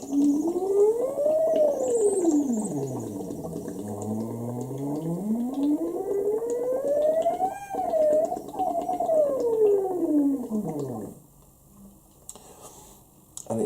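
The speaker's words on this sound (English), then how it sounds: "So I'm just going to siren through the water." A single voice sirening through water, sliding smoothly up and down in pitch, a continuous hum with a bubbly, watery buzz, ending with faint bubbling noise.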